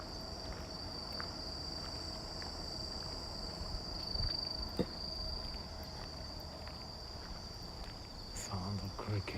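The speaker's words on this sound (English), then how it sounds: "Sound of crickets." Crickets chirp steadily in grass along a sidewalk during a night walk in Japan, a continuous high trill with faint footsteps and a brief scuff partway through.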